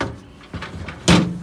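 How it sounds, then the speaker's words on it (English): A refrigerator's crisper drawer slides out with a soft rub and then hits its stop in a sharp knock, close and fairly loud, with no voices. "Let's see the crispers. They glide out pretty easy."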